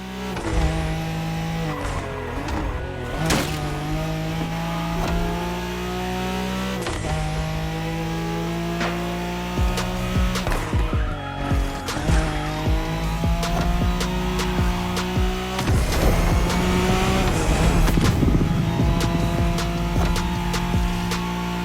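A Nissan Skyline races a Wangan-style highway event in Tokyo in The Crew Motorfest video game, its engine revving and shifting loudly through repeated gear changes, with tire squeals and passing cars over about twenty seconds.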